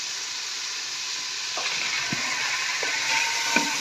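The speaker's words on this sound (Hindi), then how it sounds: "चिकन को 2 से 3 मिनट फ्राई करने के बाद" Chicken pieces fry in a pan with a steady, close hiss and sizzle. Faint stirring knocks and spatters come through now and then, and nobody speaks.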